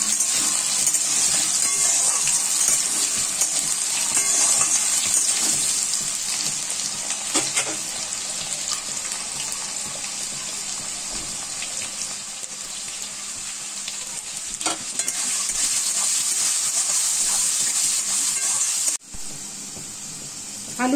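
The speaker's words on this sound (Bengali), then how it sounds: "সেটা আমি নুন হলুদ দিয়ে এখন ভেজে নেব" Two medium potatoes, diced, frying with salt and turmeric for a Bengali side dish: a steady, close sizzle with a watery hiss runs almost the whole time, briefly dipping near the end.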